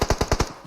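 A sniper rifle in a mobile battle royale game fires a quick burst of loud, evenly spaced shots, about six cracks in under a second, close and without voices.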